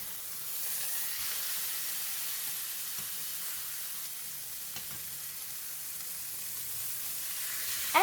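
Lamb shoulder grilling in a hot pan gives a soft, steady sizzle and hiss, fairly quiet and continuous, with a small clatter at the very end and no talk.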